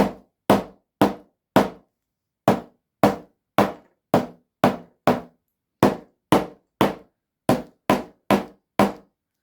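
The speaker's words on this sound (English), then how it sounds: "I need my hammer." Repeated sharp hammer strikes setting metal eyelets, about twenty sharp blows in an uneven rhythm with brief pauses, loud and close, no talking.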